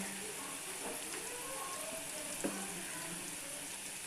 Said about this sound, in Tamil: உருளைக்கிழங்கு பொரியட்டும்.